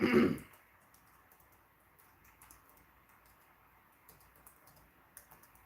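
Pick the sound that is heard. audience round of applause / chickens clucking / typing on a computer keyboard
typing on a computer keyboard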